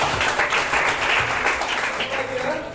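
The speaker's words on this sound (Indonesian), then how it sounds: "Bagus, tepuk tangan untuk dia." Classroom of students clapping for a classmate, a short, brisk burst of applause at close range that fades slightly toward the end.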